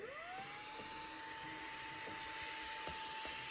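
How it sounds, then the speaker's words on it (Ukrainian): A Xiaomi vacuum cleaner runs with a steady, loud whine that ramps up at the start and then holds, with faint knocks underneath and no talking. "Зараз я вам покажу дії, як він пилососить."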